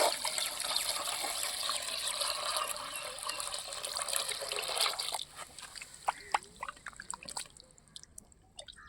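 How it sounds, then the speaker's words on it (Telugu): Large raw prawns being rinsed clean with turmeric, lemon juice and salt, water pouring and splashing steadily at first, then thinning to scattered close drips and trickles. "ఇప్పుడు ఇవి నీసు వాసన రాకుండా కొంచెం పసుపు, నిమ్మరసం, ఉప్పు వేసి నీట్గా కడుగుతాను"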